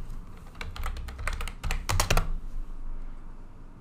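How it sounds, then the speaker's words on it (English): Computer keyboard keys are typed in a quick irregular run of sharp close clicks, followed by a couple of louder taps, then quiet. "you type the name of the project and you click on the Create button"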